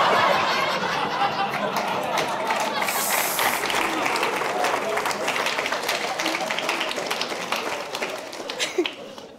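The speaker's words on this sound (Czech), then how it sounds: "A teď zatleskali, ty jo." An audience at Malostranská beseda breaks into applause during a comedy performance, dense continuous clapping mixed with chuckles and laughter, loud and sustained before tapering off at the end.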